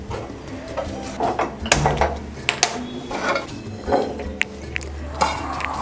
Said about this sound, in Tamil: இப்போது ஒரு அடுப்பு மேலே ஒரு பாத்திரம் வச்சு ஸ்டவ் ஆன் பண்ணிவிடுவோங்க.